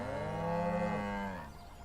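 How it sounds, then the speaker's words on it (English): Cows in the Street Fighter 6 video game give a single drawn-out, fairly quiet moo over a low game background hum, fading after about a second and a half. "Hello, cows."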